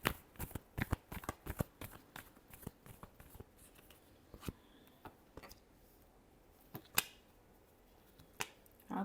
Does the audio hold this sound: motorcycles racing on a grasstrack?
no